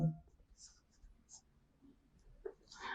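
Handwriting of numbers during a fourth-grade maths lesson, heard as faint, scattered scratching strokes in a quiet room with soft low background noise, ending in a brief louder rustle.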